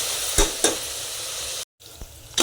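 Chopped onion frying with a little salt in a pan, a steady close sizzle broken by a few sharp stirring scrapes and clacks, with a brief silent gap before the frying resumes.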